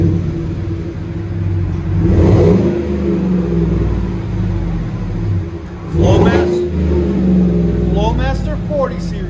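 A 2018 Chevy Silverado 5.3L V8 with a Flowmaster 40 Series exhaust idles with a deep rumble, then revs twice in loud rising bursts, followed by a few quicker blips.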